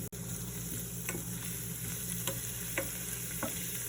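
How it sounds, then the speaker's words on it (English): Garlic sizzles in hot oil in a pan, a steady hiss running throughout with a few faint clicks and taps of a utensil scattered over it, no voices. "Start cooking your garlic."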